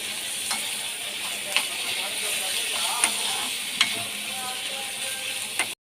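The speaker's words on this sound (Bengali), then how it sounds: "কিমাটা পুরো ফ্রাই হয়ে গেছে।" Chicken mince frying in a pan with salt, chili powder and ginger paste gives a steady close sizzle, broken by a few sharp scraping clicks of a spoon stirring, with no talking.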